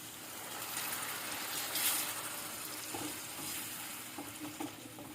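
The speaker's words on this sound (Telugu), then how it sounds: "దీంట్లో కొన్ని వాటర్ వేసుకుందాము." Faint splash of water poured into a simmering pan of mango and dried fish curry, soft sizzling and stirring noises continuing under the low background.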